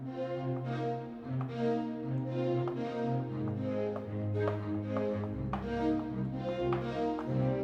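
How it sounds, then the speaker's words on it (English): Spitfire Audio brushed strings are played with the bow bouncing across them, giving a soft, continuous ensemble texture with gentle rhythmic pulses and a low sustained bass. The sound is quiet and has no talking. "The bow is just bouncing across the strings. It sounds like this."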